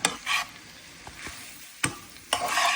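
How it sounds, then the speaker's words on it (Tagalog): Chicken pastel filling stirred in a hot pan, with a spoon scraping and sizzling in short, close strokes a few times over a steady low fry. "Haluin lang natin para mag-kulay."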